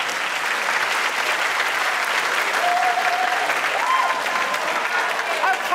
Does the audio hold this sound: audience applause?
yes